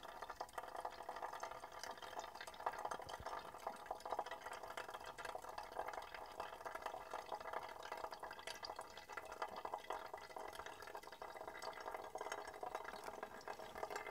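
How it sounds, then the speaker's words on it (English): Water poured slowly in spiral motions over a coffee bed in a pour-over brewer while making iced coffee gives a faint, steady trickle and patter that continues alone throughout. "I'm pouring in slow, concentric"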